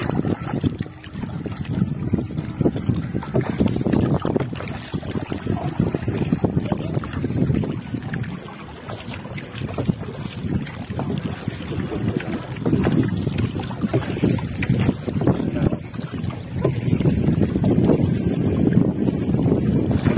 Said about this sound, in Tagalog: pasensya na sa medyo malakas na hangin ha